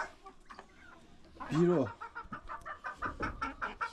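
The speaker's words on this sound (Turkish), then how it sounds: "Şu misal tavuk. Çok güzel bir tavuk." A farm flock of chickens, including a blue-grey hen, clucks close by. One loud, drawn-out cluck rises out of a scatter of softer rhythmic clucks, and someone speaks briefly nearby.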